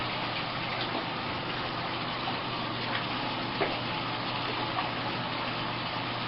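Water and sand dumped from a bucket down a drain while setting up a saltwater aquarium, a steady broad rushing gush that runs unbroken for several seconds at close range.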